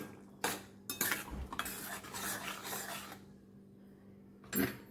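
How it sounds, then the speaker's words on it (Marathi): A spoon stirring sweet corn usal with jaggery in a metal pan, giving several close scraping and clinking strokes in irregular bursts, with quiet pauses between them. "मी त्याला थोडंसं हलवून घेऊ"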